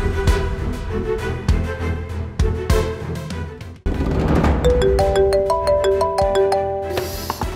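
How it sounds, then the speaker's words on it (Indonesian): An incoming phone call rings out as a melodic ringtone over dramatic background music, its repeating tones growing clearer in the second half of the clip with no talking. "Telepon dari siapa sih?"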